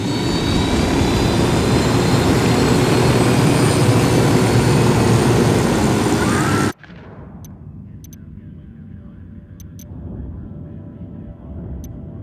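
A loud, steady aircraft engine roar fills the opening in the Ghost Recon Wildlands video game, then cuts off abruptly, leaving a quieter low rumble with a few faint high ticks.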